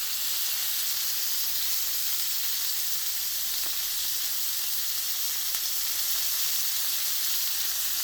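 Shrimp skewers sizzle in a hot pan, a steady close hiss of frying with a faint crackle, unchanging and continuous, with no voices over it.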